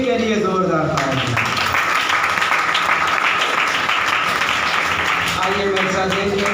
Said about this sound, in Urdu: آپ کی حضوری کے لیے زوردار تالی۔